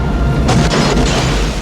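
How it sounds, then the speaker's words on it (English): A movie explosion from Demolition Man booms loud and heavy, a dense low rumble with a couple of sharper blasts breaking through midway. "So that takes us back to the explosion"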